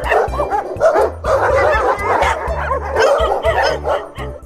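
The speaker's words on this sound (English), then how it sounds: "This is dogs barking." Several dogs barking close by in a rapid, overlapping volley of sharp barks and yips, loud and continuous throughout.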